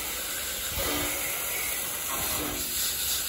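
Water spray hisses steadily as it pre-soaks a dirty air conditioning condenser unit, a continuous broadband rush with slight surges, close by and alone.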